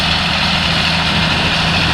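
An old tractor engine runs loud and close while working a field being prepared for drilling wheat, a constant heavy rumbling drone with no change in pace and no talk.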